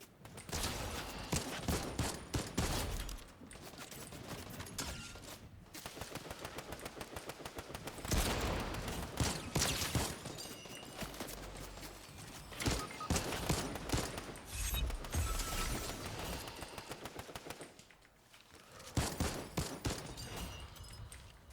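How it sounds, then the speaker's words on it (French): Rapid automatic gunfire in a Fortnite match, long bursts of fast shots rattling on and off with brief gaps, loud and close throughout. "C'est vrai qu'elle tire vite cette arme."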